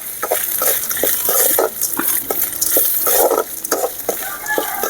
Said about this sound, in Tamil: அடுத்தது தேங்காய் ஒரு பிடி அதையும் அதில் நல்லா வதக்கிக்கணும்